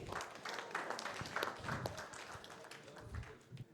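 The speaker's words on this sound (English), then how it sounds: "let's clap for the ones that are still standing" An audience at a live photography podcast claps together, a steady, moderately faint patter of many hands lasting throughout without speech.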